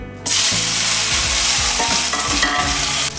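Onion, green chili, ginger and tomato frying in coconut oil for a Mangalorean-style fish curry give a loud, steady sizzle with frequent spoon-against-pan stirring knocks throughout, and no talking.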